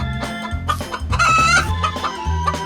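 Chicken clucking in a miniature cake-baking setting, a few sharp bursts over a steady music bed with no voices.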